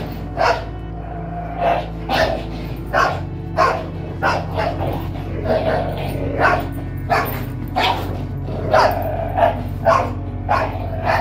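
A Cane Corso and other dogs bark and yelp in loud, rapid, overlapping bursts close by, a rough fight with snarls and whimpers between the barks.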